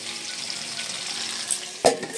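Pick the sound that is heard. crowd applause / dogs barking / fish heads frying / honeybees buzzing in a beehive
fish heads frying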